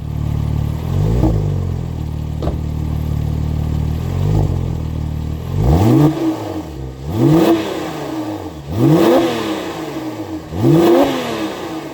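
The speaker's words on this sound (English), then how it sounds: "give the 911 Turbo a little bit of a rev for you" A Porsche 911 Turbo (997) engine revs hard several times, each sharp rise and fall in pitch following a rougher idle, loud and close with no talking.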